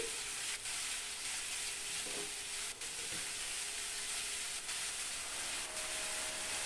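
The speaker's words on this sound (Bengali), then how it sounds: "এই কুমড়ো ভাজার সময় আমি এটাকে চাপা দেব না, তাহলে কুমড়োটা গলে যাবে।" Pumpkin pieces fry uncovered in a pan with salt and turmeric, giving a steady, even hiss and sizzle with a few faint clicks, close by and without any talking.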